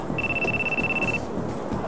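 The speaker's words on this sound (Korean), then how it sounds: "자다티한테전화가걸려오죠" A phone in Yakuza 1 gives a single steady electronic ring tone lasting about a second over a low room hum, then stops.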